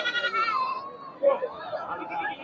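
A Black Bengal goat bleats loudly up close at a busy Sunday goat market, a wavering cry followed by murmuring voices and crowd noise.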